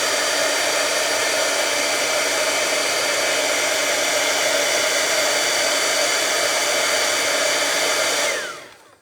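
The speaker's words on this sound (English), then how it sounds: "heat it up again with my heat tool" Heat embossing tool blowing hot air to melt embossing powder for a faux metal finish, a loud steady hair-dryer-like whoosh that runs without pause and then cuts off at the end.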